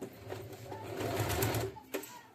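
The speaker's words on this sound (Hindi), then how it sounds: "अब इस पे सिलाई लगाना है आपको। देखो ऐसे रखना है मशीन को" An electric sewing machine stitches around the large neck opening of a warm children's sweater, a steady close mechanical whirr running almost the entire time with a brief pause and restart.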